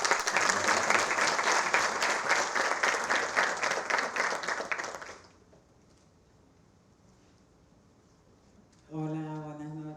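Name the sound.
cinema audience applause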